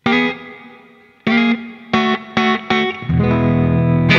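An electric guitar plays a blues riff through a HeadRush Gigboard with a doubler and reverb, giving a thick, wide tone. Separate struck chords ring out with gaps, then the riff swells into a sustained, layered chord.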